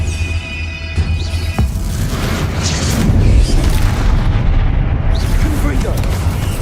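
Booming explosive blasts from the Confringo fire spell in Hogwarts Legacy, a loud continuous roar of magical combat with repeated bursts layered over one another and no quiet gaps.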